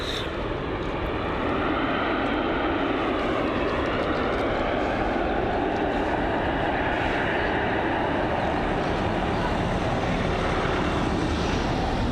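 Jet2 Boeing 737-800 airliner touching down on a bumpy landing at Bristol Airport, a loud continuous roar of engines and rushing air that holds steady throughout without any voices.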